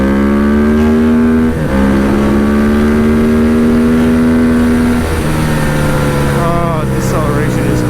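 A car cruises along a highway, its engine droning steadily up and down through gears, loud and close from inside the cabin, with road noise underneath and a voice talking over it.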